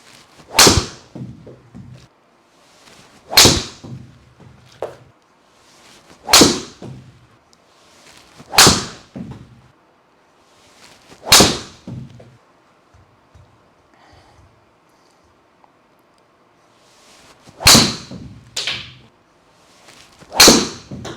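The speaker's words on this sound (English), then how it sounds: "just finished up hitting the drivers with the Q Star Tour there compared to the Pro V1" Golf driver strikes on Srixon Q Star Tour and Pro V1 balls, seven sharp, loud cracks spaced a few seconds apart, each with a short ringing tail, in a quiet outdoor setting without talk.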